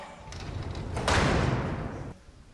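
A heavy ceremonial door slams shut in a woman's face at the House of Lords, a single solid thud with a reverberant crash over a murmuring hall ambience before it settles.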